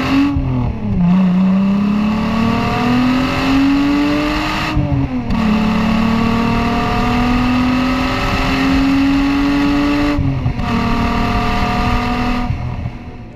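Volkswagen Corrado engine revving hard through several climbing pulls, each rise broken by a quick gear change, loud and close with no talk.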